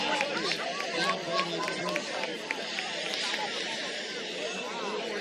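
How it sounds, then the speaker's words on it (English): Basketball arena crowd at a Patriots Red vs Giants game, a busy murmuring babble of many voices with scattered shouts and sharp squeaks, steady and moderately loud, reacting after a referee's foul call. "I believe that you can hear what the crowd in this building felt about that call"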